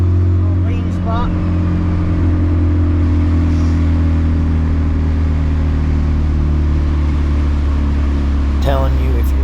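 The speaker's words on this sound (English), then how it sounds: "the Gen 2 Pulsar 3076 is what I got on this thing, and I love it. I mean, listen to the thing." A turbocharged car engine fitted with a Gen 2 Pulsar 3076 turbo runs at a steady, loud idle close by, holding an even drone with a faint chirp of other noise near the start and end.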